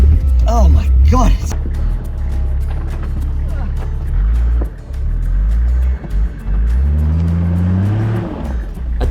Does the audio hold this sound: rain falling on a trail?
no